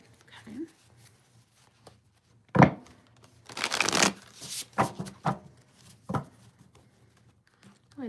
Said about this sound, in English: I thought these cards were going to be harder to shuffle for some reason